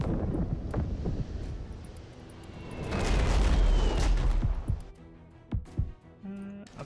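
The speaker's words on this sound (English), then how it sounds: "Mortar shells incoming!" Mortar shells explode in Abandon Ship as coastal fortifications fire on a departing ship: a long rumbling blast swells in the middle, then a few sharp booming impacts follow.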